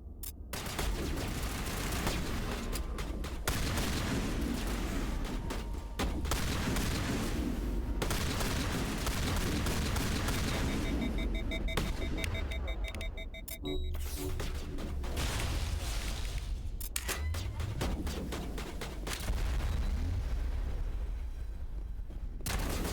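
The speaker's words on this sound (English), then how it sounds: "Why did I switch to my goddamn assault rifle?" Sustained bursts of assault rifle fire from the video game Mass Effect Legendary Edition, loud and dense, with rapid volleys running almost continuously and brief gaps between them.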